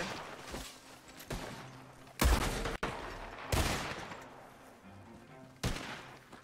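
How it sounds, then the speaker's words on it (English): Gunshots ring out in an open-world video game, a few sharp loud bursts and scattered cracks separated by quieter stretches of ambient noise. "I hear gunshots."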